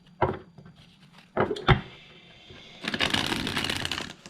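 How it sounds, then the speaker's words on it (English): Tarot cards are handled with a few sharp taps and knocks on a table, then a continuous rustling shuffle of the deck near the end, close and fairly loud, without speech. "let's give these cards a shuffle"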